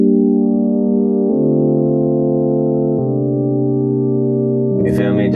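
Sustained synth pad chords run through a lo-fi plugin in Pro Tools, dulled and warm, shifting through several held chords with a brighter burst near the end, loud and without voices.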